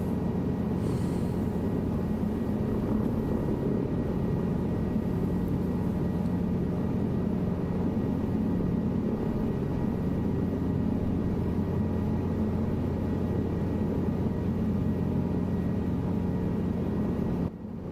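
Helicopter in Microsoft Flight Simulator 2024, a steady droning engine and rotor hum with a low tonal whine held at an even level throughout, no speech.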